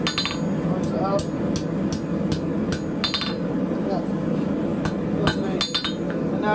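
A blacksmith's hammer strikes hot metal on an anvil while closing a necklace link, with sharp, ringing metallic blows coming in irregular bursts and quick double taps over a steady low roar of the forge.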